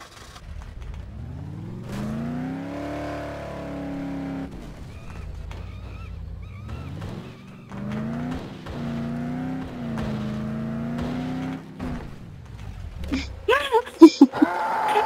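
Car engine in the Dead Island: Riptide video game turning over and revving, a droning motor whose pitch rises and falls across repeated throttle swells, loud and close, ending in sharper clattering noises.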